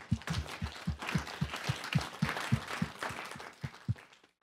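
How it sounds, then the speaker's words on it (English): A room full of people at a Reno city council meeting applauds a panel with dense, steady clapping and a regular thumping beat underneath, fading away over the final second. "Can we give them a round of applause?"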